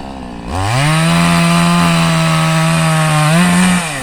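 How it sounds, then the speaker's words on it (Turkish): Chainsaw revs up and runs steadily while pruning almond tree branches in an orchard at Kalecik Gümüşpınar, a loud close engine drone holding for several seconds with a slight rise near the end, no talk. "badem ağaçlarını kesmeye başladılar"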